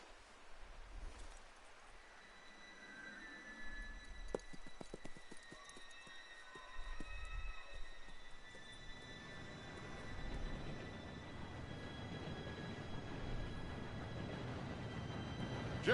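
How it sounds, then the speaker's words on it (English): A train draws closer in an Old West scene: a broad low rumble builds steadily over the second half, after a few nearby horse-hoof clops and soft thumps, with no voices. "Train should be here any minute now."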